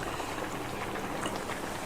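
A pot of food boils steadily on the stove, with a dense, even bubbling and hiss that holds close and constant throughout.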